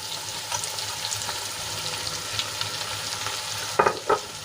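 Bitter gourd fries in a pan on low heat as a prepared spice mix is stirred in, giving a steady sizzle with soft scraping, then two sharper utensil knocks near the end. No one speaks.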